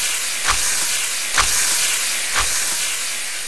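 Bear stew cooks over a fire in the video game 7 Days to Die, giving a constant steamy hiss with three soft, evenly spaced puffs over a low rumble.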